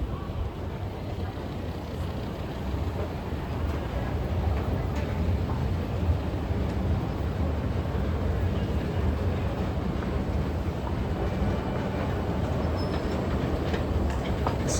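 A New York subway train rumbles at the World Trade Center station, a steady loud roar of wheels and cars with a busy ambient wash throughout.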